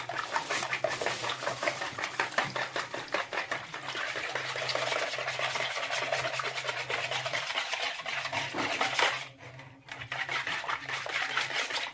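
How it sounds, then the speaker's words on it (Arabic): A cheese mixture for a phyllo goulash bake is whisked vigorously by hand. The rapid, rhythmic clicking and scraping strokes run close up, with a brief pause near the nine-and-a-half-second mark before they resume. "هنضرب بقى كويس جدا كل ده مع بعضه"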